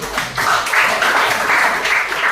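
A classroom group applauds, steady, dense clapping from many hands continuing throughout without talk.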